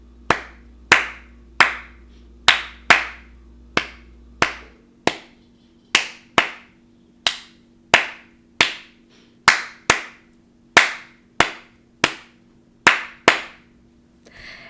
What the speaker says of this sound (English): Let's try to clap this rhythm together.